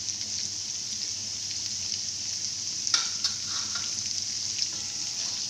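Dal fries in a pan with a soft, even sizzle that stays fairly faint and steady, broken by a couple of light clicks midway.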